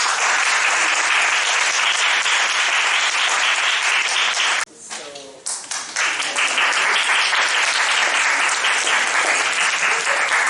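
Applause from an audience after a dramatic stage reading of a Mahesh Dattani play: loud, dense, continuous clapping from a large crowd that briefly dips and falters midway before swelling back to full strength.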